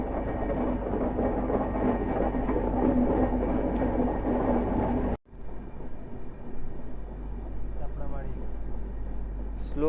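A train running slowly through Chapramari forest in the Dooars between Siliguri and Alipurduar, a steady close rumble and rattle of wheels and carriages that cuts off briefly, then resumes with a squeal at the end.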